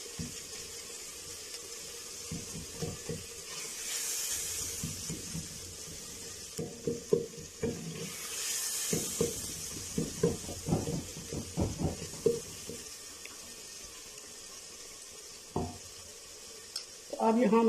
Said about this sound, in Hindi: चमचे से ऐसे थोड़ी देर इसको मैश करेंगे।